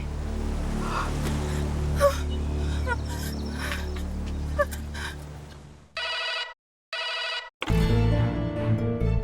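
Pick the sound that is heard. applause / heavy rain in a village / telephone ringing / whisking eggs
telephone ringing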